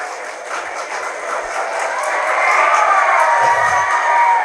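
A large audience at a Pongal special debate claps and cheers, dense steady applause mixed with shouts and whoops that builds louder toward the end, heard close and with no speech.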